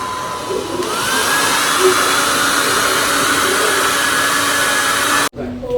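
A hair dryer blows on freshly washed hair, a loud steady whoosh that starts up, holds for several seconds close by, then cuts off abruptly.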